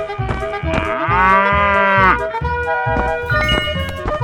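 A cow in a 3D animal slide game gives a loud, drawn-out moo, close and clear, followed by shorter lowing sounds mixed with bright game tones.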